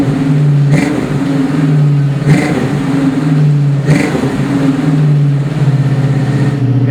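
A 1965 Ford Mustang convertible's engine runs loud and close on a brisk morning, with a steady low idle rumble broken by three sharp revs spaced evenly through the clip, with no voices.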